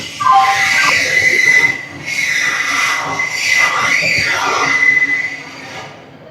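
A train pulling into platform 1 at Thiruvananthapuram Central, its brakes giving a sustained high metallic screech that rises and falls across several seconds over a steady rumble of rolling wheels.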